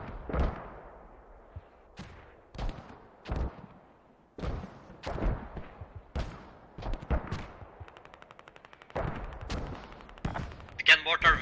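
Mortar and gunfire in a squad-based military video game match: repeated sharp blasts and bursts of shots at irregular intervals, some close and loud, with a rapid crackling run near the end, while voices talk over the action.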